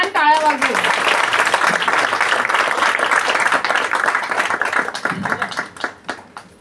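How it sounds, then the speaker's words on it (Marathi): Loud, sustained applause from an audience gathered for a Bhagwat Katha, many hands clapping steadily and close. A brief voice cuts in at the very start, and the clapping thins out and fades near the end. "आपण सगळ्या एकदा जोरदार छान टाळ्या वाजवू."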